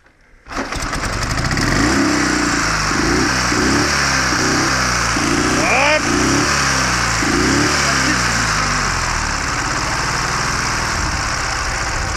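A Ural Tourist motorcycle engine fitted with electronic ignition catches and runs steadily close by, idling with an even pulsing beat and one brief rev midway, while voices talk faintly in the background.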